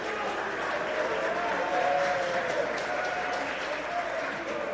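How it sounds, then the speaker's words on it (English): Applause from spectators at an under-19 youth league football match, following a shot from about 15 yards that goes just over the bar; steady, moderately loud clapping holds for several seconds, with murmuring crowd voices mixed in. "Applause there."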